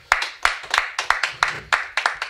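A church congregation claps in unison, about eight sharp, evenly spaced claps in a brisk, steady rhythm that is close and clear.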